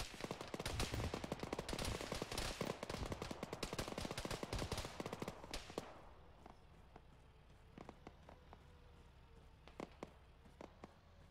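Gunfire in a military video game: dense, rapid automatic bursts, loud and close for about six seconds, then scattered single shots that sound more distant.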